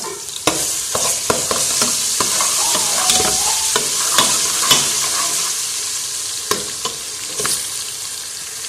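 Ginger garlic paste frying in hot ghee while being stirred, a steady close sizzle broken by scraping clicks and clatters of the spoon against the pan, with no talking.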